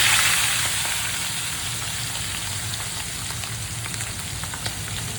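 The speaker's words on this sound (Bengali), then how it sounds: "দুটো করে ফ্রাই করবো চিকেন এক পিসটা হয়ে গেছে অন্য পিস উল্টিয়ে দিয়েছি" Chicken pieces frying lightly in a pan, a steady, even sizzle that crackles close by and fades slightly at the start, with no talking.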